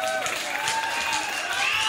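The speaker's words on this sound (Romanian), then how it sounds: "Aplauze pentru Sergiu." Wedding guests applaud the groom Sergiu during the newlyweds' dance, steady crowd clapping mixed with music, tonal melody lines running over the applause throughout.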